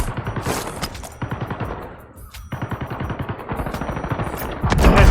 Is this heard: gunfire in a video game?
yes